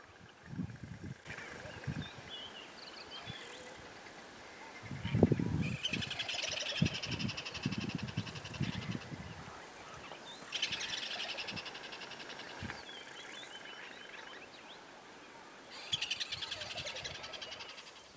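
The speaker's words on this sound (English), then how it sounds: "You can hear the squirrels alarm calling at them." Squirrels give repeated alarm calls at a pair of African hawk eagles in a tree in the Manyeleti bush, in bursts of rapid, harsh chatter spread over a hushed outdoor background with occasional low thumps.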